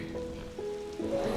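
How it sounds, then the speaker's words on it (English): Steady rain falling outdoors, a soft continuous patter of moderate loudness with a faint tonal hum running underneath, no voices. "It's been raining all morning."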